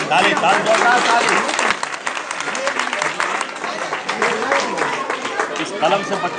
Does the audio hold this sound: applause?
yes